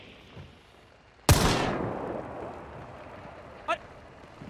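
A single loud gunshot in the video game Hunt: Showdown cracks out and rings into a long decaying echo, with faint background noise before it and a brief small sound afterward.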